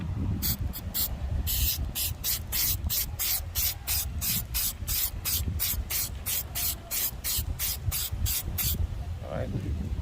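Short, sharp hisses of a spray can apply a light Plasti Dip coat to a Chevy bow tie car emblem, the bursts coming in a quick, regular rhythm up close, with faint background noise between them.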